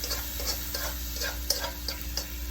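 Kimchi fried rice cooking in a pan, a soft steady sizzle with scattered stirring clicks and scrapes at close range and no talking.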